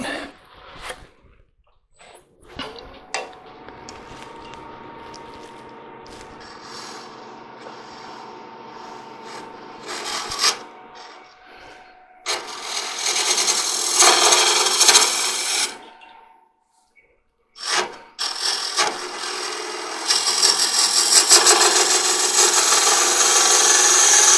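Woodturning tool cutting a wooden long-stem goblet on a lathe: a quiet motor hum and light scraping, then two loud, sustained rasping cuts separated by a brief near-silent pause.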